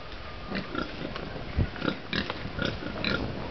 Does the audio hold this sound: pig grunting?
yes